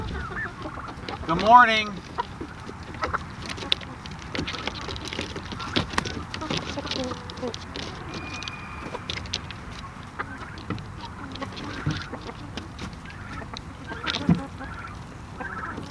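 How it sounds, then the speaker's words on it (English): Turkeys let out of their pen give a few brief bird calls, one louder call early on, amid outdoor rustling while someone speaks briefly. "All right, release the turkeys."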